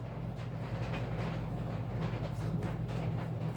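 Train running along rails, a steady close rumble with faint clickety-clack, no voices.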